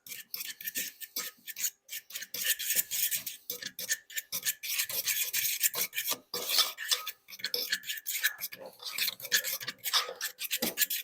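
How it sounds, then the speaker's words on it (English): Butter is worked into mashed egg yolks for deviled eggs, giving close, rhythmic scraping and rasping strokes of a utensil against a bowl that come in quick uneven bursts, with no talking. "we're going to add in an equal quantity of butter, and we're going to mix that all together"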